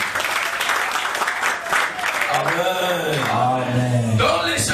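A church congregation applauds after a Bible reading, a loud burst of clapping that carries on under a voice that starts speaking and rises into a drawn-out, sung-like exclamation.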